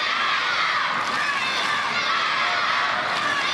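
Crowd noise at a Paris 2024 boccia bronze medal match, a steady broad roar of cheering and shouting that holds without a break through the whole stretch.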